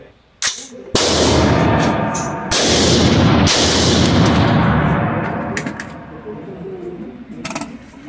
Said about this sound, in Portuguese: Vou efetuar 2 disparos a 3 metros aqui, ó.